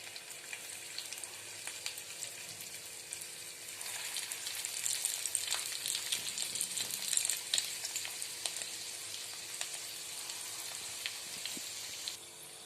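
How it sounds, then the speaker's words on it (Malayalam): Chicken spring rolls frying in hot sunflower oil, a steady bright sizzle with crackling pops and occasional stirring clicks, close and continuous, swelling slightly midway before cutting off. "ഇനി ഇത് നമുക്ക് എണ്ണയിലിട്ടൊന്ന് ഫ്രൈ ചെയ്തെടുക്കാം"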